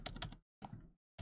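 Someone types on a computer keyboard in two quick bursts of clicking keys, close and fairly quiet, with short pauses between them and another burst just starting at the end.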